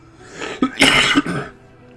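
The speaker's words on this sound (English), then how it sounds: "You can listen to his cough in the microphone." A man coughs close into a microphone during a RimWorld game session, one rough burst followed by a second harsh cough about half a second later, fairly loud against a quiet background.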